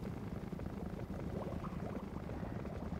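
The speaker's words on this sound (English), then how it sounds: "the bubbling noise is kind of cool" A mixer in the Create mod for Minecraft bubbles faintly and continuously, a soft, steady churning burble heard alone.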